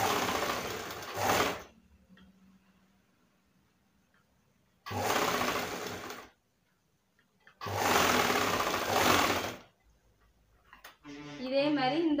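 A sewing machine stitches cloth in three loud, close bursts of rapid whirring, each a few seconds long, separated by quiet pauses. A voice speaks briefly at the end.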